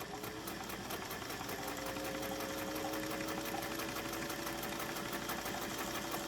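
A sewing machine stitches a dress, running in a steady, fast mechanical whir with a rhythmic ticking pulse, close and continuous with no pauses.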